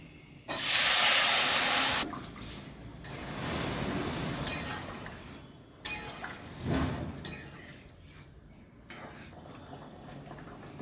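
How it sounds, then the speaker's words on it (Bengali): Boiled bottle gourd and mung dal poured into a hot pan, a loud hissing splash up front that settles into softer bubbling with a few metallic clinks from utensils. "এবার আমি লাউ ডাল সেদ্ধটা ঢেলে দিচ্ছি"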